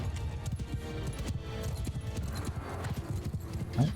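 Horse hooves clip-clopping in a Mount & Blade II: Bannerlord battle, a steady rapid rhythm of many hoofbeats from mounted horse archers and cavalry, fairly close, with a brief higher call near the end.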